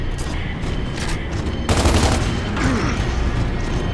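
Rapid bursts of gunfire in Gears of War 2 crackle continuously, growing louder and denser halfway through, with a dense, noisy battle-like texture.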